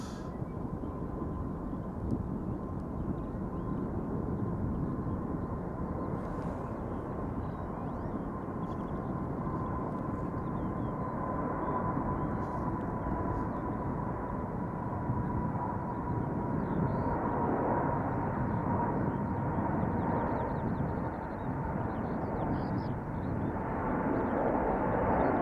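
An Atlas Air Boeing 747 takes off from the centre runway at Schiphol Airport, a steady distant jet roar sustained throughout and slowly swelling, heard alone without talk.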